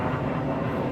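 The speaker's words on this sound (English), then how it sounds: "suspicious airplane" A propeller airplane drones overhead as a steady, broad, continuous roar with no talk over it.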